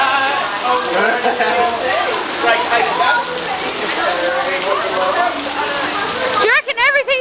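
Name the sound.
heavy rain falling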